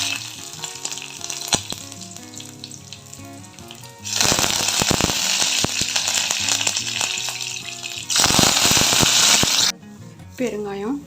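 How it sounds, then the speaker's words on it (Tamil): Mustard seeds, urad dal and chillies crackle and splutter in hot oil while tempering puliyodharai, a dense, loud sizzle with sharp popping bursts that swells in stages and cuts off near the end, over background music. "இப்போ புளியோதரையை தாளிச்சிக்கலாம்"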